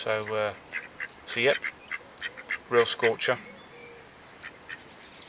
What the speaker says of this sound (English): You might hear the ducks in the background.